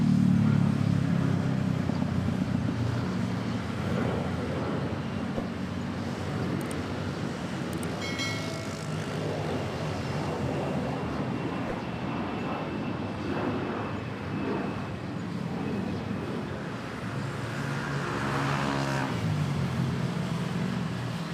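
Airliner taking off from runway 13 at Manila airport, a sustained loud jet engine roar rumbling steadily across the whole stretch, heard from nearby.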